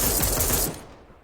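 A short, dense burst of rapid video-game gunfire that cuts off and fades within about a second, loud and close with no speech over it.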